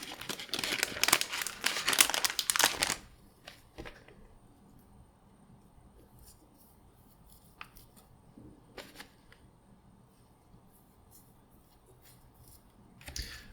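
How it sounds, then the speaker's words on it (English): Finger cots are pulled on with loud crinkling and rustling for about three seconds, then near-silence broken by a few faint rustles and light handling clicks, with a brief crinkle returning at the end. "I need to put on some additional finger cots"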